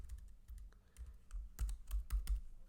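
Computer keyboard being typed on while writing Python code for a desktop system utility app, a quick run of light, irregular key clicks close to the mic, with no talking.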